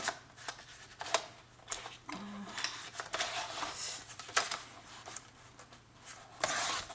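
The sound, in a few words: cutting paper with scissors for scrapbooking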